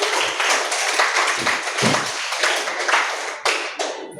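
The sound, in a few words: applause, clapping hands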